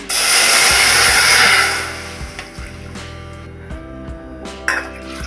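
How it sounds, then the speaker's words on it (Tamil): Two tumblers of water pour into a pressure cooker on a kitchen stove for a lentil dalcha, a loud splashing hiss for under two seconds followed by quieter clinks and handling sounds. "அடுப்பில் ஒரு குக்கர் போட்டுக்கோங்க ரெண்டு ரோட்டா தண்ணி ஊற்றிக்கணும்"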